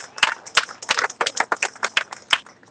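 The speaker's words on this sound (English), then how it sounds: "Let's give him a big round of applause." A crowd at a fishing tournament final weigh-in at Clear Lake claps for the new leader, a brief burst of scattered, uneven hand claps at moderate distance.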